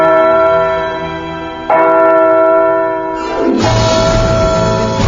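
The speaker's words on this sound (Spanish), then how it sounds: "recibido con repiques de campanas desde las iglesias" Church bells peal loudly from churches across colonial Caracas in a festive celebration, sustained ringing tones that swell and grow denser midway as more bells join, with no talk.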